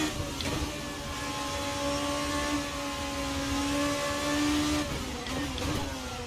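A sustained, loud engine whine from a Formula 2 car racing at Interlagos in Assetto Corsa holds and rises in pitch, then drops sharply at a gear change near the end.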